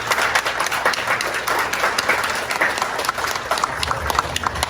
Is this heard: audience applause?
yes